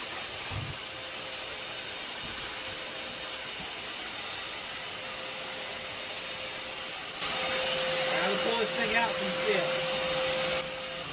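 A vacuum sucking up a yellow jacket wasp nest inside a camper, a continuous loud whooshing hiss with a steady whine that grows louder and rougher partway through, with a voice talking over it.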